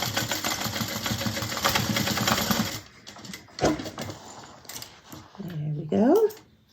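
A sewing machine stitches a bag with a busy rattling hum for nearly three seconds, then stops, followed by scattered handling noises and a person talking.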